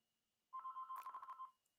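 A telephone rings once, close and clear, with a steady warbling electronic trill lasting about a second before stopping, followed by a brief clatter.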